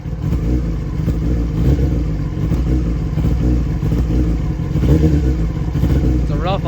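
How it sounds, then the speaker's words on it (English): A 2004 Yamaha R6 motorcycle engine idling roughly and running a little rich, a steady low uneven rumble with slight clatter, loud and close throughout. "it's a rough idle. It's a little smoky, but that's the restriction."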